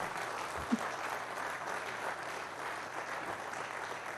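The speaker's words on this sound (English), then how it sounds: "deserves a round of applause" Audience applause at a ministerial press briefing in Abuja, a faint, steady patter of many hands clapping heard from a distance with no one speaking over it.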